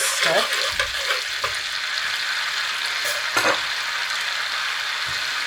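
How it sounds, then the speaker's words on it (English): Cumin seeds fry in a hot pan for tarka dhal, giving a loud continuous sizzle close up, with a few scraping stirs and clicks of the utensil breaking through. "Then straight in with the cumin seeds. Got a stir."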